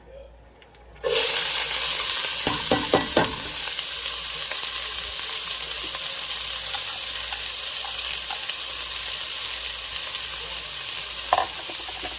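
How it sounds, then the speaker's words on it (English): Chopped onion, green pepper and red pepper hit a hot pan with a sudden loud sizzle, then fry in a steady, close hiss with a few stirring clinks early on. "So here go my onion, green pepper, and red pepper."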